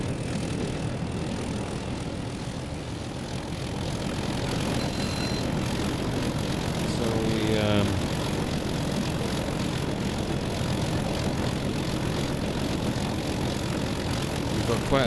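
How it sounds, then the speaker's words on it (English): A Class 31 diesel locomotive thrashes at full throttle with a loud, steady, gritty engine roar and a brief rising whine partway through. "We've got quite a bit of thrash going at the moment, which is the throttle"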